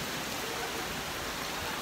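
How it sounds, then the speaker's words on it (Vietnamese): Heavy rain pours down during a storm, a dense, even hiss of falling water that fills the short stretch without letup and carries no voices. "Mọi người đã thấy thì trời đang mưa"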